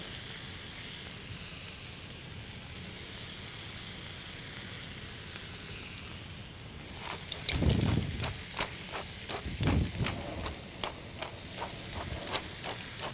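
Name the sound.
bone-in ribeye steak sizzling in seasoned cast iron skillet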